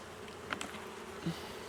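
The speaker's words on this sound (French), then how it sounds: "je vais secouer chaque cadre pour que toutes les abeilles descendent" Honeybees from a divisible hive buzz faintly and steadily as the frames are shaken, with a couple of brief soft knocks and no talking.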